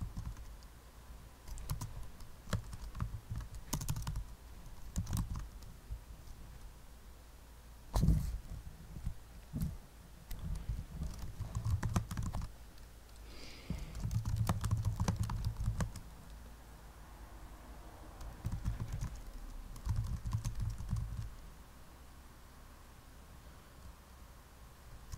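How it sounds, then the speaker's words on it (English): Keys clatter on a computer keyboard in irregular bursts of typing with pauses between, fairly faint and close, over a quiet room hiss with no talking. "So now I'm just typing up basically the answers."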